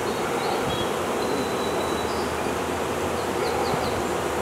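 Honeybees buzzing steadily and densely during installation of a package of bees into a hive, a continuous close hum with brief higher whines of individual bees passing near.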